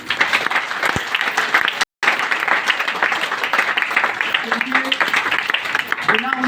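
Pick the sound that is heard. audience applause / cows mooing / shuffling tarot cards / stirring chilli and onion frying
audience applause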